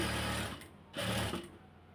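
A sewing machine stitches lace onto a hijab in two close bursts of rapid mechanical whirring, separated by a short pause.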